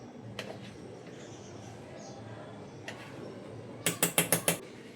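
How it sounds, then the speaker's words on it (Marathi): A cake tin filled with batter for a homemade cake is tapped down on a hard surface: five quick, sharp knocks in a rapid even series near the end, following soft handling noises. "त्यात सगळं बॅटर मी टाकून टॅप करून घेणार आहे."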